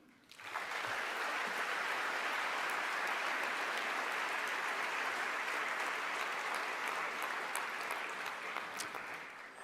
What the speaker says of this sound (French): J'aimerais qu'on applaudisse cette équipe.